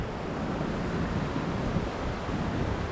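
Near a forest camp, a river flows with a steady, broadband rushing wash, continuous and fairly close, with no voices over it.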